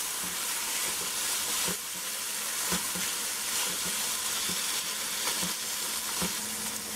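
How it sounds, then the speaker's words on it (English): Beans fry in a pot for Trinidadian shrimp pelau, a steady close sizzle and hiss running throughout with occasional soft pops and stirring bumps, no voices. "you're just gonna let that fry for about a minute"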